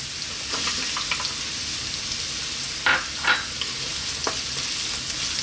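Chopped onion, ginger and garlic fry on highish heat in a pan, a constant gentle sizzle broken by a couple of brief scraping stirs.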